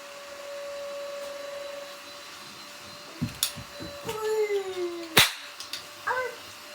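A toy cowboy cap gun fires several sharp cracks at irregular intervals over a steady mechanical hum, with one louder snap standing out among them.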